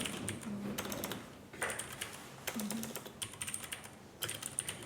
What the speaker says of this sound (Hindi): इसमें ये कीबोर्ड स्पेशल है थोड़ा सा